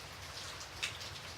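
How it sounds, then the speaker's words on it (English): Steady rain washes down a large, thin glass window, a soft continuous patter with one brief louder splash near the end, all fairly quiet and without any voices. "Rain washed down it, as with the front door's window, but I could open this one."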